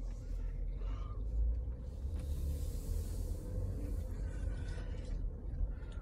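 Steady low road rumble and engine drone from a car cruising around a neighborhood, continuous and close, with faint hiss of tires and no talking.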